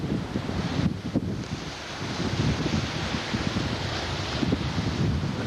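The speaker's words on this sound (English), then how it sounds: "The wind is blowing like heck." Strong wind gusting along the Alaska coast on the Kenai Peninsula, a steady roaring rush buffeting the microphone throughout with no voices.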